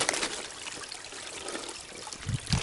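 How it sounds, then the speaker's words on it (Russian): A small mountain river in the Carpathians trickles and splashes over stones with a steady watery hiss, close and moderately quiet, with no talking. "но бежит настоящая речка"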